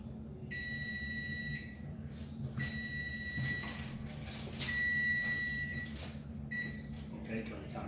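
A kitchen timer beeps in repeated high-pitched bursts over a steady low background hum, with a few separate beep sequences spread across the stretch.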